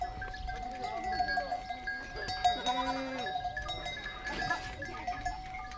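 Flocks of sheep and goats move along a narrow dusty rural path in India, bleating in overlapping calls at moderate distance, with bells clinking faintly and voices murmuring in the background.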